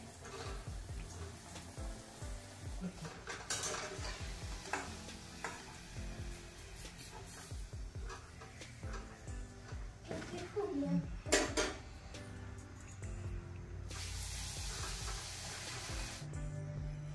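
Puri deep-frying in hot oil, with a steady background sizzle and occasional clinks of a utensil. Voices talk over the frying throughout, and the cooking sounds stay low under them.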